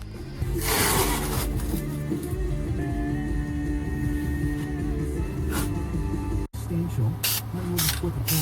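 Bursts of hissing from a spray paint can come and go over a steady background, with someone talking intermittently nearby, inside an RV van.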